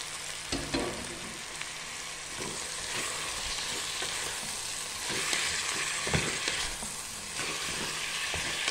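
Tomatoes sizzle and soften in a pan for a fish moqueca, a continuous bright frying hiss broken by a few sharp stirring knocks, fairly quiet and close, with no talking.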